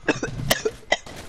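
A burst of several sharp, close coughs in quick succession, loud and harsh, with no talking around them.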